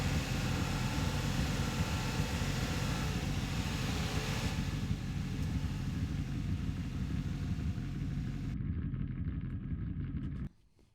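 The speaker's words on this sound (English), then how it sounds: "So we got our conveyor belt layered with our car rev." Layered sound-design effect pairing a conveyor belt with a revving car engine: a dense, steady mechanical rumble and whir that runs unbroken at a constant loudness, then cuts off abruptly near the end.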